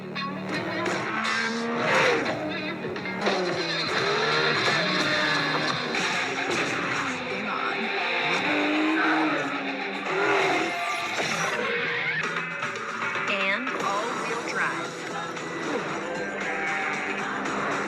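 Electric car commercials for Kia, Acura and Nissan EVs, including an electric SUV, with cars accelerating hard and tyres skidding amid a dense, continuous mix of engine roar and music-like layers, steady and loud throughout.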